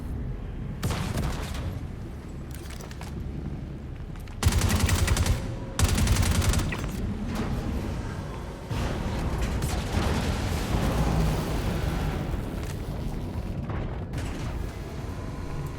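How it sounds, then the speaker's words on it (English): Grenades explode in the Star Citizen game during a lab assault, loud bursts and crackling blasts with bursts of gunfire over a constant rumbling backdrop, no voices. "You can hear grenades."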